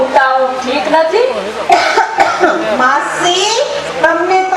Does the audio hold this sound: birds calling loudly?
no